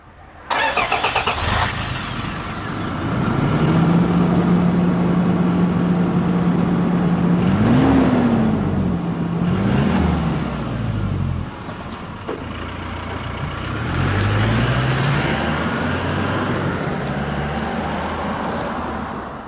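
Toyota Hilux GUN125 fitted with a Ganador aftermarket muffler, exhaust note at low speed: a steady idle-like hum that rises in a rev around the middle, settles back, then swells again later, fairly close and with no voices.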